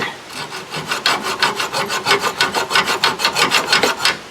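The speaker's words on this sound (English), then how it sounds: "I think I could just hacksaw this right here" A hacksaw cuts through a line in steady back-and-forth strokes, a close, rhythmic rasping of about twenty even strokes with no voices.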